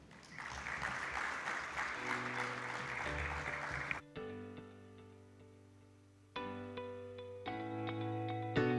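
Audience applause after a speech at a 2024 agribusiness conference, a dense wash of clapping for about four seconds that gives way to loud sustained music tones.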